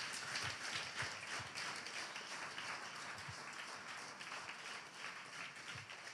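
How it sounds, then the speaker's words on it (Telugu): Congregation at a church service clapping hands together, a dense, steady wash of many claps sustained throughout, with a few sharper taps standing out near the front. "చప్పట్లు కొడుతూ ప్రభునామమున మహిమపరచుదాం"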